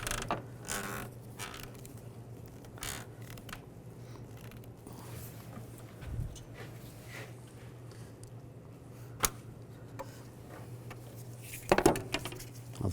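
Creaking and rubbing as a hose is twisted off a connector on a Nissan Xterra engine, with a low steady hum underneath, scattered faint clicks and a clunk of handling near the end.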